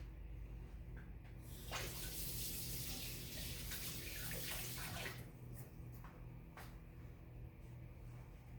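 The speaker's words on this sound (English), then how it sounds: "I'm just going to rinse off the spoon." Tap water runs while a spoon is rinsed in a kitchen sink: a brief burst of rushing, splashing flow that rises, holds for a few seconds and cuts off, leaving a few small drips and clinks, with no voices.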